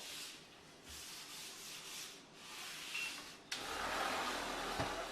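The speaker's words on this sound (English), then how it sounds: "You buff with the white terry cloth towel, then you switch to a microfiber towel to remove the rest of the residue." A white terry cloth towel buffs sealed granite in repeated rubbing strokes, a soft swishing friction close by, growing louder and denser near the end.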